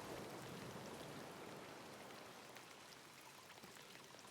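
Rain falls in the existential platformer game Peppered, a continuous soft hiss of pattering drops, fairly faint and steady throughout with no talk.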